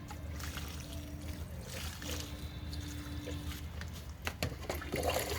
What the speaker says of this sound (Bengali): এবার এইভাবে আমি একটু জল দিয়ে দিচ্ছি